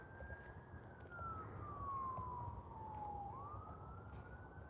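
A police siren wails out on 6th Avenue, a single long gliding tone that sweeps slowly downward and then rises again, fairly loud over steady street and traffic rumble, with no talk.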